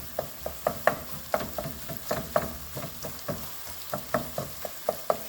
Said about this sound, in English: This meat has browned, so I'm going to make sure that I chop it up